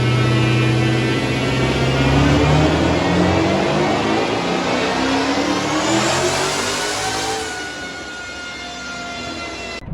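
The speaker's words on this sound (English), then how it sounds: "We ended up leaving before they dynoed the Demon. So I'm going to insert a video of it here." A Dodge Demon's engine revs on a dyno, a loud sustained roar that rises in pitch for several seconds and then winds down near the end.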